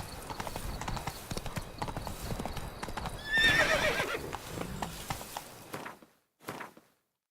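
Roach the horse clip-clops steadily in The Witcher 3, and a loud whinny breaks out partway through before the hooves slow and fade to silence.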